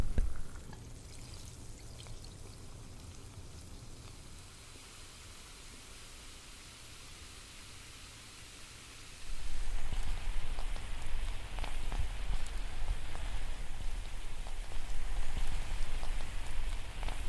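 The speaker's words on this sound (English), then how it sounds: "The bubbling sound is extremely relaxing." A homemade flower-shop bath bomb fizzes and bubbles in bathwater as a steady close hiss of tiny bursting bubbles, which jumps noticeably louder and fuller partway through.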